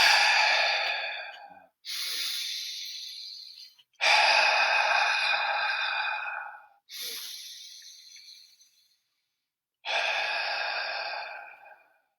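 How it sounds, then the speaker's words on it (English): Slow, deep breaths exhaled through an open mouth, five long airy breaths in a steady rhythm, close and soft, with brief pauses between them and no talking. "Deep breathing."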